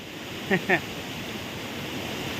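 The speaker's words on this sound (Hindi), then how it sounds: "ये देखो कितने ऊपर से पानी गिर रहा है झरेला पानी है" A waterfall pours from a great height, a steady broadband rush that fills the whole clip, with two short bursts of a voice early on.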